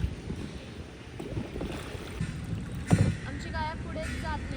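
A kayak paddles through flowing water in Goa, with soft splashes and water rushing close by under steady wind noise, while people talk briefly over it.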